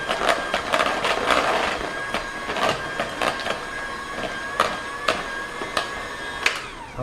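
Electric hand mixer beating pound cake batter with cream cheese and banana pudding, a steady motor whir broken by repeated sharp clicks and rattles as the beaters strike the bowl, close and moderately loud.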